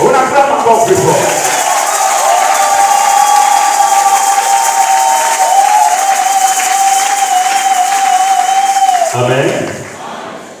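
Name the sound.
church congregation cheering and applauding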